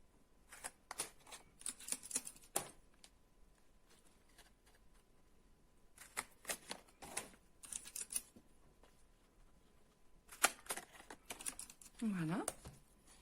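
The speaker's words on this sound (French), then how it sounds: "nous allons prendre notre pince pour réaliser les trous pour pouvoir passer notre ruban." Pliers punch holes in festive gift wrapping on a bottle so a ribbon can pass through, producing crisp paper crinkles and clicking snips in several short clusters, close by and fairly faint.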